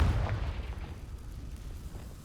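The Confringo fire spell explodes in the Hogwarts Legacy video game: a single deep boom at the start, then a low rumble that slowly fades out.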